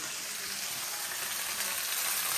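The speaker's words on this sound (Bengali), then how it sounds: "এই যে দেখুন সিম আলুগুলো কত সুন্দর করে আমি ভাইজা নিচ্ছি" Beans and potatoes fry in oil in a pan on a gas stove, giving a steady, close, unbroken sizzle with no talking over it.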